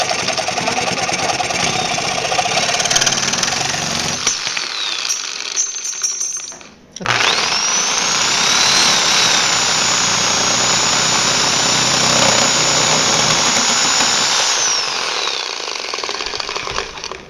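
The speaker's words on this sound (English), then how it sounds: "So next I'm going to cut a piece of copper pipe." A reciprocating saw cuts through copper pipe, a loud continuous harsh buzzing rasp that runs for several seconds, breaks off in a brief pause, then resumes and holds steady to the end. No one speaks.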